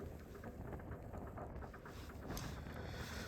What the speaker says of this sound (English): it's so hard when it's winding like this, and the wind is strong like this